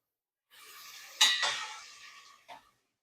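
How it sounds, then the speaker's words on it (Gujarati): A lid set down over a cooking pot of tanjariya bhaji: a soft rustling start, then a sharp metallic clank, a scraping settle and one last lighter clink as it seats, with no talking. "આ રીતનું ઉપરથી ઢાંકી દેવાનું, જેથી કરીને વરાળ સરસ ભાજીમાં બેસી જાય."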